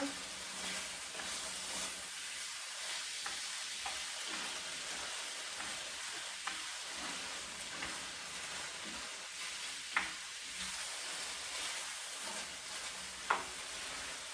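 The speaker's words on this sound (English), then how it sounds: "now I'm going to mix them like all together" Ground pork and potatoes stir-frying in a pan make a steady, close sizzle, with soft stirring scrapes and a couple of sharp utensil knocks against the pan throughout, and no one speaks.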